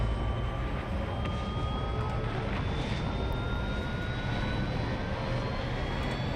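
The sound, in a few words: spaceship engines starting up in the video game Star Citizen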